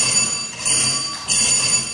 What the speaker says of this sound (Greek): Συγγνώμη, το κουδούνι πρέπει να ανοίξω.